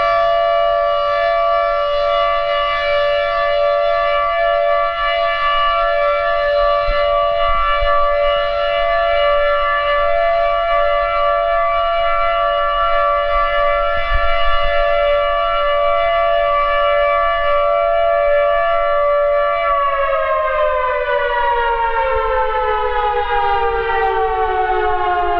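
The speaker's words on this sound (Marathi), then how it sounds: "10:59 ते 11 वाजेपर्यंत या वेळेत मौन पाळण्याची सूचना देणारा सायरन वाजविण्यात आला" A civil defense siren sounded in Nagpur to signal a moment of silence, a single loud, steady wail held for about twenty seconds before its pitch slides down as it winds off, no voices.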